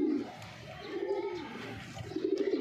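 Pigeons coo nearby in soft, throaty rolling calls, one after another, with faint background noise around them.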